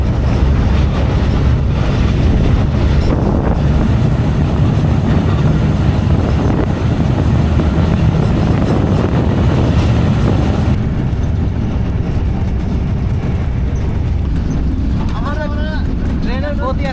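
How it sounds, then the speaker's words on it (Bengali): Inside the locomotive of the Kanchan Commuter train running at over 80 km/h, a loud steady roar and rumble of the engine and rails with wind noise, someone talking over it. "ট্রেনের গতি এখন 80 কিলোমিটারেরও উপরে, দুর্দান্ত গতি নিয়ে আমরা চলে যাচ্ছি।"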